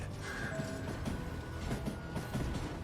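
Train in the Call of Juarez Gunslinger video game, a faint rolling rumble with creaks and mechanical clatter from the railcars, steady throughout with no talk.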